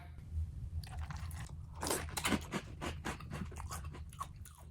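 Fruity and Cocoa Pebbles Crunch'd cereal in milk being chewed up close, with loud, wet crunching bites in an uneven rhythm and no talking.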